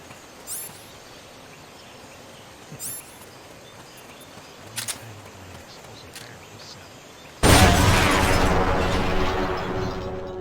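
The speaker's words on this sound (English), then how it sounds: "An explosion?" A loud, sustained blast erupts in Metal Gear Solid: Peace Walker partway through, preceded by a few faint clicks over quiet game ambience, then rumbles on dense and broadband to the end.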